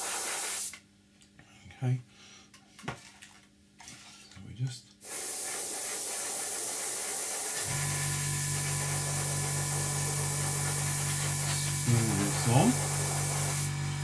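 Neat, thick paint is airbrushed onto a 1/48 Eduard MiG-29 scale model kit: a loud, steady spray hiss starts midway and runs continuously after a few brief spoken words and quiet handling noises.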